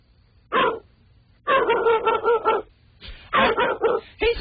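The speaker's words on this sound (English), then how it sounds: "He has the same exact blast every time he barks." A pit bull barks loudly and close by in a radio studio, giving several sharp, repeated barks separated by brief pauses.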